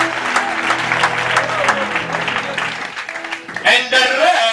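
Church congregation at a Sunday service applauding together, dense sustained clapping that fills the space, with voices and singing mixed in and a brief swell near the end.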